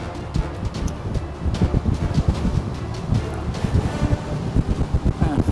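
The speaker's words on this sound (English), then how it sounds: "Feeling a lot of wind pressure this way too, actually." Strong wind buffets the microphone on a speedboat running fast, a loud gusty roar of rushing air and rumbling hull noise without speech.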